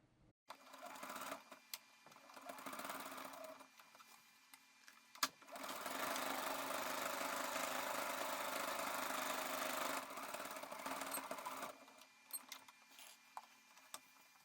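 A sewing machine fitted with a walking foot stitches through layers of a sling bag in short bursts, then runs in one long steady whirring stretch before stopping and starting again in brief clicks.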